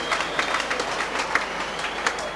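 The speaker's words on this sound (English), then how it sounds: "Argyle fans will applaud anything Grobbelaar does." Football crowd at a Plymouth Argyle versus York City match applauding goalkeeper Bruce Grobbelaar, a steady wash of distant clapping with small swells throughout, no voices on top.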